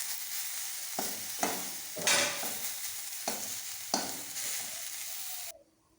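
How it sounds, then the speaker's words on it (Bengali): Cut shrimp being fried in a pan, a steady close sizzle broken by several scraping stirs of a spatula, ending abruptly, with no voices. "চিংড়ি মাছটা আমি কেটে রেখে নিয়েছিলাম, এটা আবার ভালো করে ভেজে নেব"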